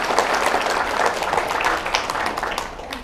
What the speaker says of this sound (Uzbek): Bitta qarsak bo'lsin shu bolaga.